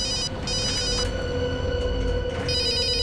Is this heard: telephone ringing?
yes